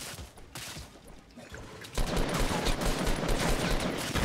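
Rapid video game gunfire, sporadic shots at first, then a dense, loud, sustained volley of automatic fire, with voices talking over it.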